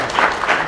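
Short burst of convention-panel audience applause for a guest, dense and fairly loud, with no talk over it.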